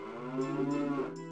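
Cow mooing in the video game Zelda Ocarina of Time: a single drawn-out, slightly wavering moo, close and clear, with no talking.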